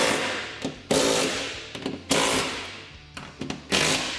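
Bursts from a power tool tightening skid plate hardware on a Honda Talon 1000: about five loud, sharp whirring runs of varying length, separated by short pauses and faint clicks.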